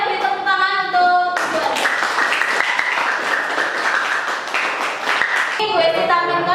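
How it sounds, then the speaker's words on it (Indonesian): Students in a classroom clap for classmates stepping up to present, a loud dense burst of applause lasting several seconds, framed by tonal sounds before and after. "Yang lainnya beri tepuk tangan untuk"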